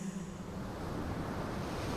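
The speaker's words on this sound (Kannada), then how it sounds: "ಆ ಅಲೆಗಳ ಸದ್ದು" Ocean waves on an empty beach make a steady, soft, rushing roar, faint and continuous throughout with no distinct breaks and no talking.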